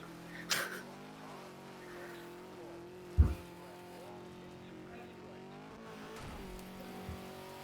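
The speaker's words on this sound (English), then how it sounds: "I find that the cars in this game like to rev a lot." Rally car engine in the racing game DiRT 2, holding a steady high-revving drone throughout, with a sharp thump partway through and a brief squeal near the start.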